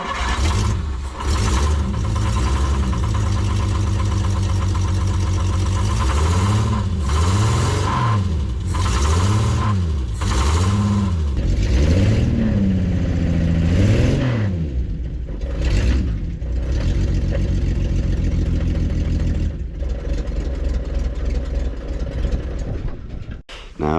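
Engine of a prewar Austin/Crosley single-seater race car running with repeated revs that rise and fall in pitch, loud and close in a workshop, with someone talking over it part of the time.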